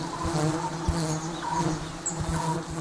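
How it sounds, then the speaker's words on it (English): Bees swarming around their colony make a dense, continuous buzzing drone, close and steady, with individual insects flying past now and then. "when one bee finds a new source of food, it can mobilize hundreds of other workers from the colony in minutes."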